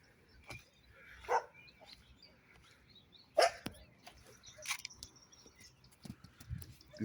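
A family of dogs in Anping, with a few scattered short barks at moderate distance, separated by quieter stretches with light rustling.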